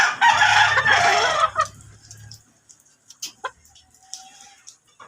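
Chickens being fed plant leaves cluck and squawk in a loud burst up close, then peck and call faintly and sporadically in a quiet yard.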